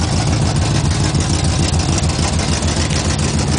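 A 1970 Buick Skylark GS muscle car idles through a throaty dual exhaust, a loud, close, steady low rumble with an even pulsing beat and no talk.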